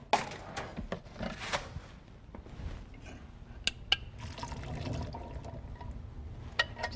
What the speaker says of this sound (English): Just give them a quick rinse.